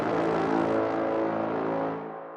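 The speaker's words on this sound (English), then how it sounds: "This is the Inception brass hit" Brass hit sample from the Inception sound kit, a dense, loud, sustained orchestral blast of stacked harmonics that holds for about two seconds before fading out, with no voices.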